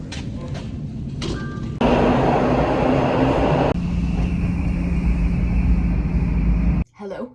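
Subway train ride heard from inside the car: steady rumbling rail noise with a louder roaring stretch as the train speeds up, shifts in tone, then a brief drop near the end, continuous and close.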